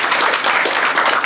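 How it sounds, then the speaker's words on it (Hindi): An audience at a national hackathon valedictory ceremony at a university breaks into loud, dense applause, a brief sustained wash of many hands clapping close by. "तो यहाँ बैठे छोटे भारत के लिए मैं चाहूँगा ज़रूर तालियां बजाएं"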